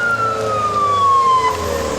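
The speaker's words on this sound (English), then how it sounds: "Mrs. Macy, the ambulance is here now" An ambulance siren wails loudly nearby, a single descending tone over a rumbling vehicle engine, with no talk over it.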